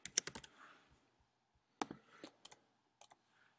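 Fingers type on a computer keyboard, making quiet, irregular clusters of light clicks separated by short pauses.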